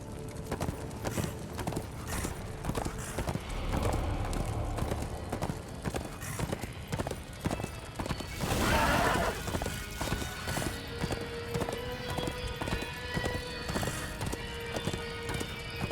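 Rapid hoofbeats clatter steadily in a galloping rhythm in the video game Darksiders 2, close and loud, with a horse whinnying partway through.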